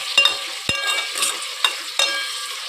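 Sambar ingredients, including dosakaya, frying in oil while being stirred, giving a steady hiss of sizzling with a few sharp scrapes and taps of a spoon against the pan, close and clear.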